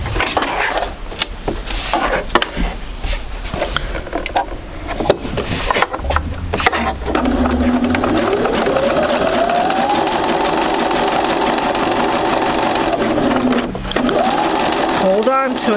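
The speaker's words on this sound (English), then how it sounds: "we're going to go ahead and take this to the sewing machine" A sewing machine stitches fabric for a basic sampler quilt, its steady mechanical whir running continuously from about the midpoint onward, preceded by handling noises and a speaking voice.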